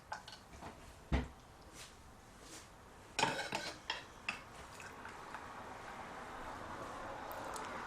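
A spoon clinks and scrapes against a pot as carrot murabba, carrots in sugar syrup, is served into a dish, giving a few sharp metallic knocks among softer clatter in a quiet kitchen.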